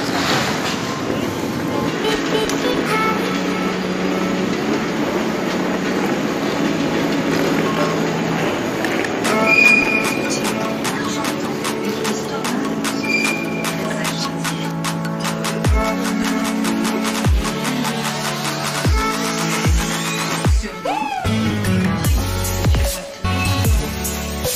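A train passing through a Paris station: a loud, continuous rolling rumble that builds, with metallic wheel squeals and screeches toward the end, heard close by, while someone talks.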